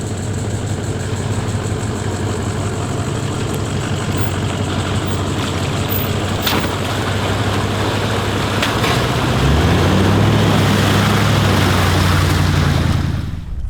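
A 4x4 engine in low range drones steadily and loudly through a slow off-road crawl along a narrow track, the revs rising near the end before cutting out.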